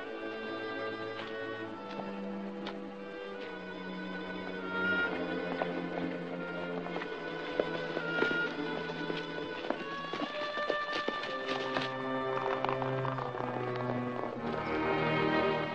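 Horses trotting in a 1948 western, hooves clip-clopping in a steady rhythm at moderate distance, running under a swelling orchestral score.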